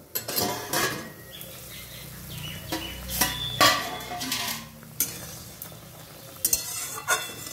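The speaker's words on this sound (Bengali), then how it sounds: "দেখুন 10 মিনিট হয়ে গেছে, ঢাকাটা খুলে নেব।" A lid comes off a cooking pot of simmering jute leaf curry, making a few sharp clattering knocks and scrapes of cookware between quieter stretches, with no voices.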